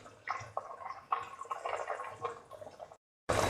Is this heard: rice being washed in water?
yes